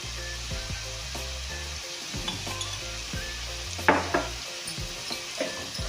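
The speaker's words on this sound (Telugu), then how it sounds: "సాల్ట్ వేసుకొని బాగా ఫ్రై చేసుకోవాలి" Onions frying in a pan with salt added, sizzling steadily while a utensil stirs and scrapes through them in repeated strokes, close and moderately loud, with no talking.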